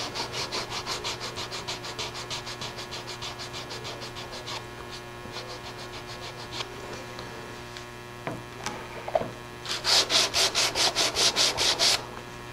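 Wood sanded by hand down to a layer of masking tape during a restoration repair: steady rhythmic back-and-forth rubbing strokes, close and fairly quiet over a faint mains hum, with a pause in the middle before a faster, brighter burst of strokes.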